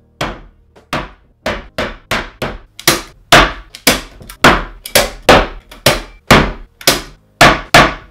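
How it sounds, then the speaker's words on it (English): A steady series of sharp hammer blows flattening staples into a wooden screen-printing frame, about two per second, loud and close with brief pauses between strikes. "take a hammer and hit each one as you go"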